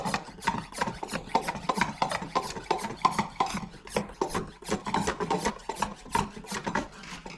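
Hand pump repeatedly forcing oil into a freshly rebuilt Nissan Skyline R33 GTS-T engine to build oil pressure before first start, a steady series of close rasping strokes in an even rhythm with no talking.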